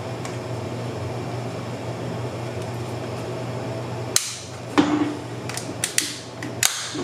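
A Seagate 5TB portable hard drive is pried out of its plastic casing. A low hum runs under the first half, then sharp plastic snaps, creaks and clicks come in irregular bursts up close.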